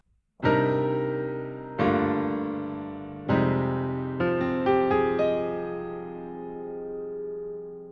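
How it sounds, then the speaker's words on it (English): A rich, sustained minor ninth chord on keys struck several times, each ringing out and decaying, ending with a few lighter notes layered on top; played alone, no talking. "The other beautiful chord voicing I want to show you is based around the minor 9 chord"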